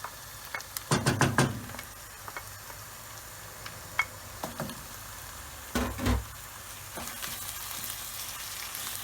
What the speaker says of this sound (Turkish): salçasıyla birlikte de karıştırarak pişiriyoruz